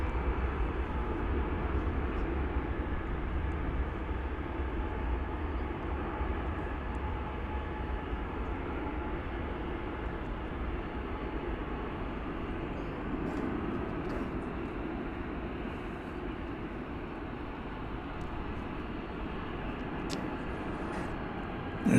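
Airliner on the flight to Albuquerque at DFW Airport, a steady low engine rumble and roar, distant to moderate and continuous, with no talk.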